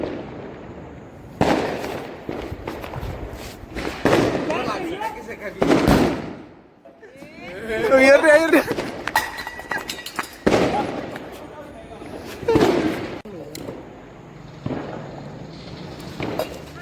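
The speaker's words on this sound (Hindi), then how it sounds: "छोटे छोटे बम हैं जो तिल्ली से जलाते हैं यहाँ से।" Small Diwali firecrackers lit with a match go off outdoors in several loud sharp bursts with crackling pops between them, while people talk and shout excitedly throughout.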